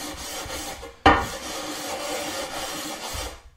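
A sharpening stone is rubbed back and forth across a ceramic tile to flatten it, making a steady gritty rasping scrape that starts with a sharp, louder stroke and continues close and unbroken.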